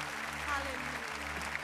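A church congregation at an evening Lagoinha Baptist service claps together in a steady wash of applause, moderately faint, with a voice over it.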